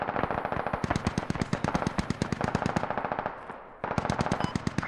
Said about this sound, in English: Oh, I'm taking fire.